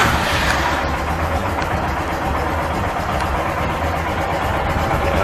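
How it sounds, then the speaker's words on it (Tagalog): A Royal Enfield Himalayan motorcycle with its stock exhaust pipe idles steadily up close, a loud continuous low rumble with no talking over it. "let's start up the bike"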